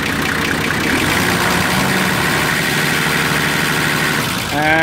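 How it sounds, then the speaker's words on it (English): Nissan Patrol 4.2 diesel engine running loud and close, a rough steady rumble that swells briefly as it is revved, ending with a rising whine. "The engine's running, so we should, if I give it a rev, see that voltage increase"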